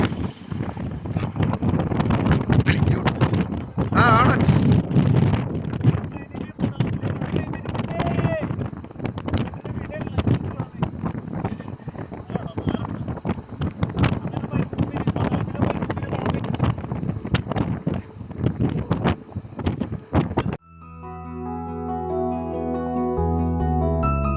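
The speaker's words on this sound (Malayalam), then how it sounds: "എന്നാ കാറ്റ്" Strong gusting desert wind in Al Madam during a rainy-season storm buffets the microphone in loud, rough bursts for a long stretch, with voices underneath, then giving way to music.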